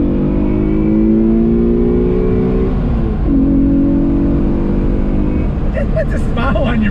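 A 1994 Mitsubishi FTO's engine pulls hard under throttle, a loud droning tone climbing in pitch, dropping with a gear change and climbing again, heard from inside the car with no talk.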